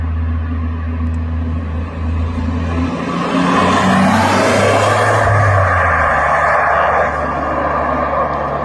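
A 1986 Nissan 300ZX Turbo coupe passes by in a steady rush of engine rumble and tire noise, swelling louder near the middle and blending with distant traffic, with no talking.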